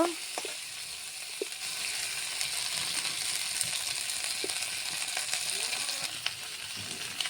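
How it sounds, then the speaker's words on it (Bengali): Ginger, garlic, onion and chili fry in a pan with a steady, crackling sizzle, broken by occasional soft knocks of stirring, heard alone at moderate loudness. "এখানে আদা, রসুন, পেঁয়াজ, মরিচ সবগুলো একটু ভেজে নেব।"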